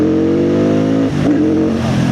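A Benda 707 motorcycle engine accelerates hard on the road, a loud, close, steady rising drone with a brief dip near the middle before it pulls again, with no talking over it.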